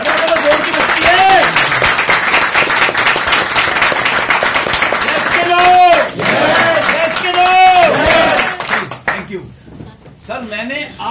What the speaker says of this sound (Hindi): अपनी अपनी जगह पे खड़े होकर ताली बजाते हैं